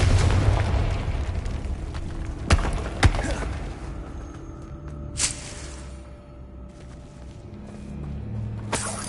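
In a Harry Potter video game, Confringo blasting curses go off as a few booming explosions amid rumbling game ambience: two close together early, another midway and a last one near the end.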